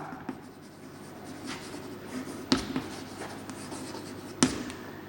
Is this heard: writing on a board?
yes